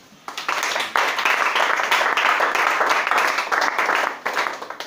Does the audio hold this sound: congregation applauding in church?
yes